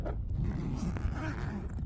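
A zipper is drawn open on a motorcycle tail bag, a close, continuous rasping scrape lasting under two seconds with no talking.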